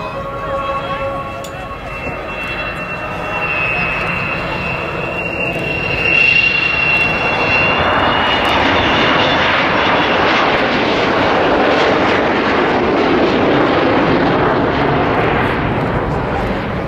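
Avro Vulcan XH558 bomber flying at the Southport Airshow 2009, jet engines building from a whining tone into a loud, broad roar that swells and holds as the aircraft passes.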